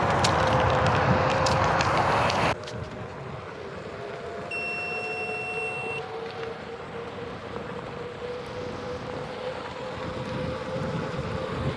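Electric scooter on a test ride, wind buffeting the microphone loudly at first, then a steady whirring motor drone with a rising whine that carries through to the end, no talking.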